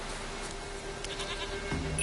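Goat bleating in Witcher 3, a brief rising bleat near the end over a quiet ambient background.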